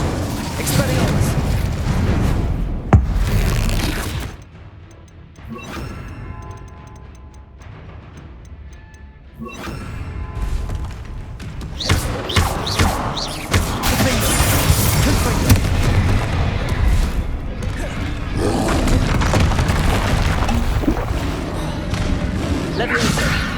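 Spell blasts in Hogwarts Legacy, including Glacius, Confringo, Incendio and Expelliarmus, in a cave fight: repeated booming impacts and crackling bursts, loud and close, with a short quieter lull, mixed with voices and shouts.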